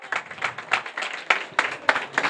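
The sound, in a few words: audience clapping at prize ceremony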